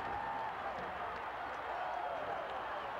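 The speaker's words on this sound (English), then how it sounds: "Listen to the crowd." A football stadium crowd in a Penn State game gives off a broad, distant roar of cheering that holds steady throughout, with faint calls and whistles rising out of the mass of voices.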